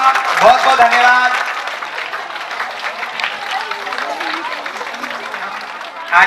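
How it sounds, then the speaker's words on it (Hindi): Crowd applause at a village school's annual function, clapping spread across the audience while voices talk over it, fading slightly toward the end. "जोरदार तालियां हो जाए इनके लिए।"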